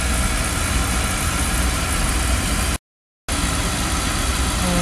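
A Beckett oil burner runs with a steady, loud, broadband roar and low rumble, broken once by a brief dropout of total silence before the same drone resumes.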